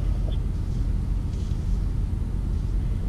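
A BMW X5 xDrive50i creeps slowly downhill off-road on the brake, producing a steady, low engine and drivetrain rumble with no sudden changes.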